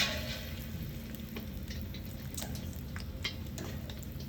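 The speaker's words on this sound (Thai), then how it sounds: "ทอดลูกชิ้นกุ้งดู" Shrimp balls frying in hot oil give a continuous close sizzle and bubbling hiss, with a few brief splutters and pops throughout and no talking.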